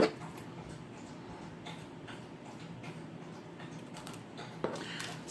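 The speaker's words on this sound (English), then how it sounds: "that noise you hear is my dog drinking water" A dog laps water from a bowl with repeated soft, rhythmic ticking and clicking laps, faint and close against a quiet room background.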